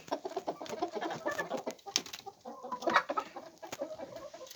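Backyard chickens and geese in a snowy winter yard cluck and chatter close by in a busy, overlapping stream of short calls, with no talking.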